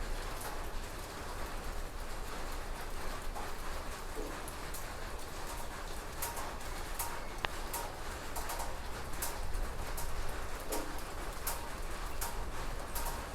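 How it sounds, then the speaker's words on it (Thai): Steady rain falls across the whole stretch, a dense wash of patter with occasional sharper drips and faint bird calls in the background. "ออกไปไหนไม่ได้เลยค่ะฝนตก"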